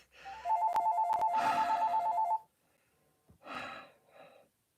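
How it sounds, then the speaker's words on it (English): A landline telephone rings with a repeating electronic warble for about two seconds, loud and close, then stops, followed by breathing and a sigh. "why is he calling me on my phone and then calling on my landline?"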